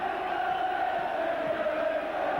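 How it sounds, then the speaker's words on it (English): A capacity crowd at a rain-soaked Easter rugby league match between St Helens and Wigan at Knowsley Road, St Helens, making a dense, steady roar of many voices. "Good game in prospect, a capacity crowd, and we're here on a rain-sodden day"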